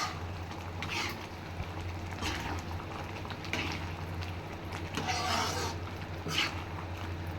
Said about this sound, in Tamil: மூடி வச்சுட்டு கொஞ்சம் சிம்மில் வச்சுடுங்க கொஞ்சம் கொதிக்கட்டும்